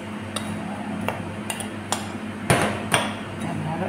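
Powdered parmesan cheese and breadcrumbs being mixed in a bowl, with a few sharp clinks and scrapes of a utensil against the bowl over a steady background hum, no talking.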